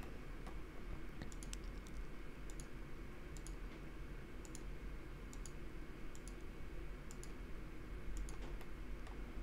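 Computer mouse clicks while tracing with a polyline in Draftsight come as faint, sparse single ticks spaced a second or so apart over a low steady hum, with no voices.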